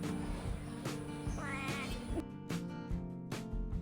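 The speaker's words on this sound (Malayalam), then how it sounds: "പൂച്ച." A cat meows in a short rising-and-falling call over a loud rhythmic backdrop of music with a steady beat, with no talking.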